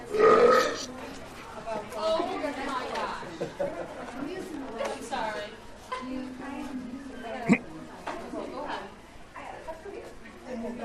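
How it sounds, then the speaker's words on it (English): Burping among a group of men in a radio studio, with loud belches at the start and a sharp one partway through, amid ongoing chatter and talk. "we're waiting on burps here"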